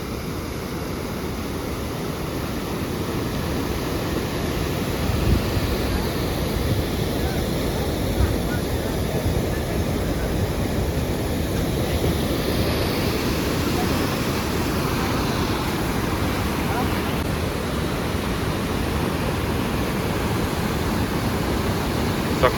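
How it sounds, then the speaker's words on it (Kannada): Rushing river water at Gondi dam in Bhadravati, a steady broadband roar with wind buffeting, continuous and loud with no breaks. "ಭದ್ರಾವತಿಲಂತೂ ನೀರು ಯಾವ ಲೆವೆಲ್ಗೆ ಹರಿತಾ ಇದೆ ನೋಡಿ ನೀರು."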